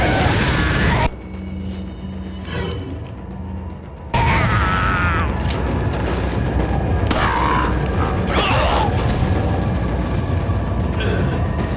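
Incendiary grenade going off in Resident Evil 4: a loud blast, a quieter lull with mechanical game sounds, then a sudden heavy burst that gives way to a long, roaring wash of fire.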